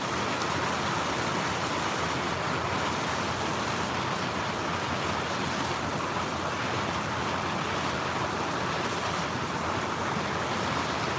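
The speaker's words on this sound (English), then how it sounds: "It's raining though, I will say that." Rain falling steadily during a morning walk outdoors in the UK, a dense, even hiss of drops with no pauses, moderately loud and continuous.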